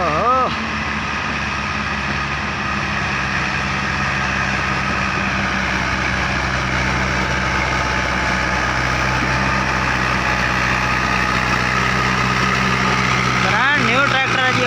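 A new Fiat 640 tractor with an 85 HP engine runs steadily and fairly loud throughout, a continuous low drone with harmonic hum, while a voice talks over it near the end.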